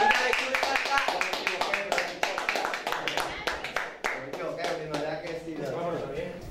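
Small group clapping in a room with a Spanish-speaking rap group, quick rhythmic claps for several seconds, close and loud, fading as voices talk over the end.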